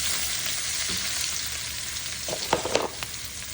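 Garlic and onion sizzle steadily in a frying pan while a Filipino banana-heart dish is being sautéed, a constant hiss with a few sharper spits and pops toward the end.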